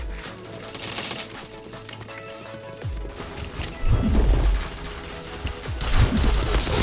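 Rapid bursts of gunfire in the PointBlank online shooter, loud clustered shots with sharp crashes over a steady game background, growing heavier in the second half.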